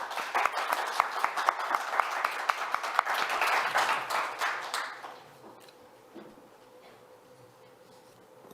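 At a forest risk-management launch event, an audience claps to welcome a deputy minister to the stage. The applause is moderately loud and dense for about five seconds, then dies away into quiet room tone.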